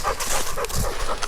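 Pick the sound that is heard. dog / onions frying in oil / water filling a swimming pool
dog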